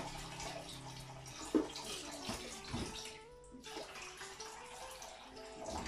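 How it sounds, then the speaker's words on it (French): Soaked cassava is rinsed in clean water in a basin, with close splashing and sloshing, a brief louder splash, and water running and gurgling throughout. "Et là, pour la deuxième fois encore, je le rince."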